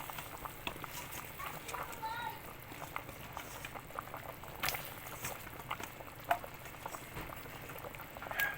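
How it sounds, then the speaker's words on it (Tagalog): Water for a sinigang sa miso with tuna belly comes to a steady rolling boil in a pot, a continuous close bubbling hiss with scattered pops and small splashes, while a voice speaks quietly over it. "So, ayan guys, kulong-kulo na siya."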